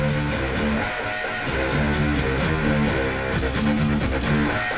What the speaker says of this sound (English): You need to have things like guitars like this.